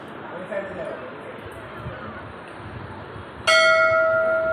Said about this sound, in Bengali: যা হয়ে গেল ঘন্টা বাজানো